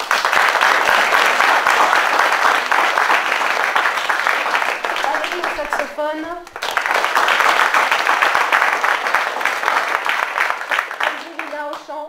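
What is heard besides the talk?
audience applause for the musicians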